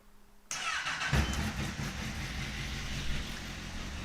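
A Honda CBR1000RR motorcycle with a carbon exhaust turns over and catches at about half a second, then settles into a loud, steady, throaty idle with a brief rev.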